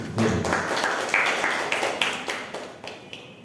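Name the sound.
audience applause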